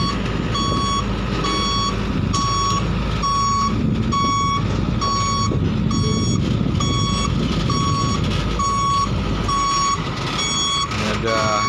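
A Hino dump truck reverses while filling a jetty area at a coastal power plant, its backup alarm beeping in an even repeating rhythm over a loud, constant engine rumble.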